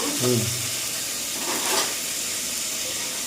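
Cumin seeds frying in hot oil for a Tamil kara kuzhambu give off a steady, close hiss and sizzle, with a brief voice at the start.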